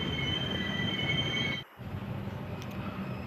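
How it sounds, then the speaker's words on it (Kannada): Train pulling into KR Puram railway station, a sustained high metallic wheel squeal over rumbling rolling noise that briefly cuts out, then returns as a lower, steadier rumble. "KRಪುರ ರೈಲ್ವೆ ಸ್ಟೇಷನಲ್ಲಿ ಎಂಟ್ರಿ ಆಗ್ತಿದೆ ನಮ್ಮ ಟ್ರೈನು"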